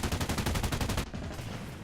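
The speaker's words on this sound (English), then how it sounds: "Again, using the 20mm tail turret." The 20mm tail turret of an SM-91 in War Thunder firing a rapid, loud burst of evenly spaced cannon shots for about a second, then cutting off into a lingering rumble.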